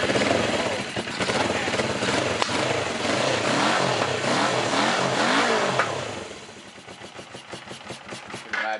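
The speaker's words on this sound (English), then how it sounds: "So you got the old Suzuki Clipper going, huh?" An old Suzuki Clipper motorcycle engine running and revving, loud buzzing rises and falls up close that drop toward a choppy lumpy idle near the end.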